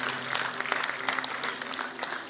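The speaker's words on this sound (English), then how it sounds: "I request everybody attending to kindly welcome it with a round of applause." Audience applause at a book release ceremony for a millet-themed book, a steady wash of clapping from a seated crowd filling the whole short stretch at moderate, even loudness.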